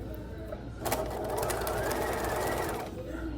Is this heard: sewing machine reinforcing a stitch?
yes